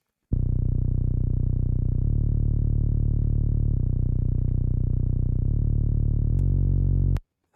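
A distorted sub-bass synth in Ableton Live plays alone: long, sustained low notes with a gritty edge that step between a few pitches and then stop abruptly.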